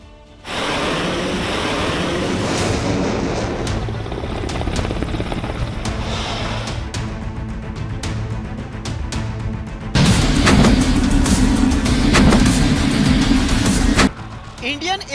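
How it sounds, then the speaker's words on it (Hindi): Fighter jets making night landings on the Ganga Expressway, a loud continuous roar of jet engines that builds and swells, with a louder, denser surge near the end before cutting off abruptly. "रात के अंधेरे में कैसे फाइटर जेट्स गंगा एक्सप्रेसवे पर उतरे"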